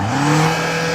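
A BMW X5M's 4.4-litre twin-turbo V8 revs hard while stationary, a loud steady engine roar holding high revs for a brief moment with no talk.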